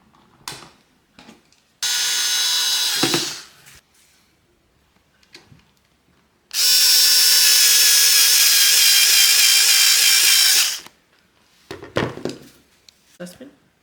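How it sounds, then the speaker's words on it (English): A power screwdriver driving screws back into a Dyson V6 cordless vacuum during a battery change, two sustained whirring bursts, one short and one longer, separated by quiet handling clicks, with a voice speaking between them. "And now we just put the screws back in."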